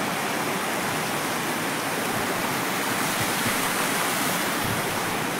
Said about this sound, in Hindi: देख सकते हैं हम नाले में पहुंच गए, जो मैंने आपको नाला दिखाया था, ये काफ़ी दूर से बह रहा है।